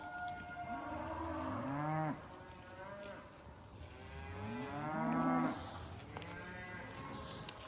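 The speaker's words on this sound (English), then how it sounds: "They just bawl for their babies until they find them" Cows bawling for their calves after being separated on a long cattle drive, two long, loud, drawn-out moos a few seconds apart, with quieter lowing in between, outdoors and fairly close.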